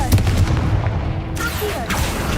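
Confringo fire blast spell cast in the Hogwarts Legacy video game, a loud booming burst with crackling impacts over rumbling game ambience, followed by a second burst near the end.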